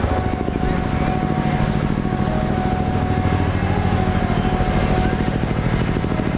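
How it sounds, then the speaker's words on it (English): A large helicopter flies a display at the Bournemouth Air Festival, its rotor producing a loud, steady, thudding chop that continues without pause throughout. "The display the team are putting on for us demonstrates how surprisingly manoeuvrable the large helicopter is."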